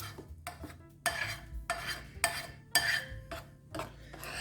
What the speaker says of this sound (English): I'm going to try to get some of this up off the edges and down in the bowl.